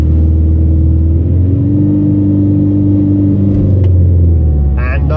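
An automatic lorry drives through snow, its engine a loud, steady low drone with layered harmonics that climb slightly in pitch and then settle. A brief voice is heard near the end.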